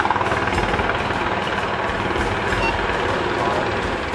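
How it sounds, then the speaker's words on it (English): A rescue helicopter starts up during a climbing rescue operation at El Capitan, its engine building a dense, steady roar with rapid rotor chop that stays loud and close throughout. "So they are going to start the helicopter now."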